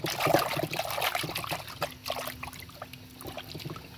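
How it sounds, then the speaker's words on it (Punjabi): Water poured from a container into a bird water vessel outdoors, a soft continuous trickling and splashing stream, fairly quiet and close, gradually thinning as the vessel fills. "ਆਪਾਂ ਭਰ ਕੇ ਰੱਖ ਦਿੱਤਾ ਜੀ ਪਾਣੀ"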